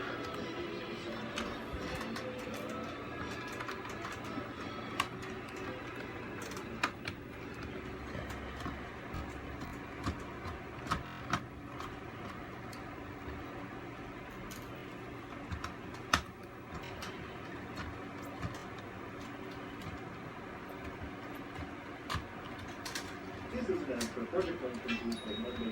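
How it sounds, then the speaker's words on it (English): Small screws are backed out of a Game Boy Advance shell, faint close ticks and clicks from the screwdriver scattered through steady background hiss. "Just go ahead and remove all of these screws."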